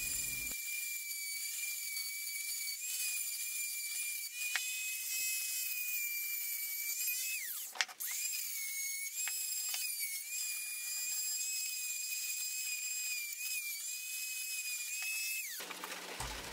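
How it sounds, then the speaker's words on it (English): A Dremel rotary tool grinds the rough casting of a cheap milling vice. Its steady high-pitched whine runs continuously, pitch dipping briefly under load near the middle and again at the end as the tool slows. "whilst I have the Dremel tool out, I might as well clean up the rough casting"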